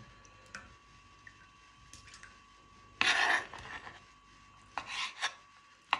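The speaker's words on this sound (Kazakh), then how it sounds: "Қарындарымызды осылай жіңішке етіп турап аламыз." Cooked beef tripe sliced thinly with a knife for a hot Kazakh salad, heard as a few short rasping cuts in separate bursts against a quiet background.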